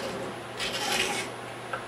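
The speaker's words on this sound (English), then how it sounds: "I'm going to go in here and I'm going to scribe this area." A scriber drawn across a Chevy 350 TBI cylinder head around a Fel-Pro gasket gives a soft, close scratching rasp that swells for about half a second and then fades back into quiet room noise.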